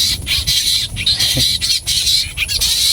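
Fighting birds squawk harshly in a rapid series of loud, rasping calls close at hand, with short pauses between the outbursts and no talking.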